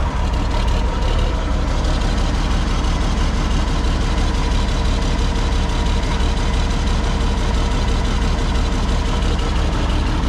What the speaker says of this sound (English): This is the best sounding tractor of all time.